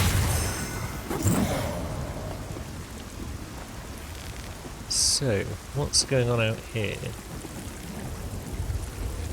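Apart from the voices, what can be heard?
rain in the video game Lords of the Fallen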